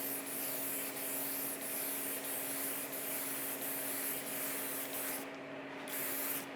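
Blue spray paint hissing from a can onto a quarter-scale Aquaman statue, a steady close, continuous spray with brief pauses, running alone throughout.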